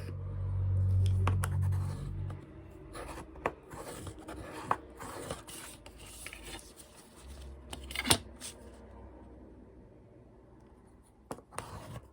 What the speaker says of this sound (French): Donc je viens marquer comme ça mes plis de partout.